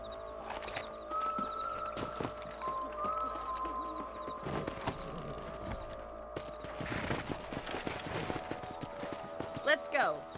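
Rhythmic horse hoofbeats in the video game Red Dead Redemption clip-clop at a steady walk, with tack creaks and people talking over them.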